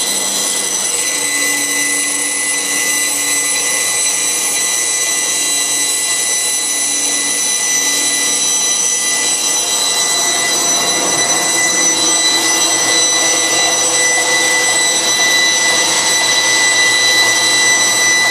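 A power tool cuts slowly through a stack of insulation boards, advancing about an inch per second, giving a loud, steady whining drone that holds through the whole stretch with no voices.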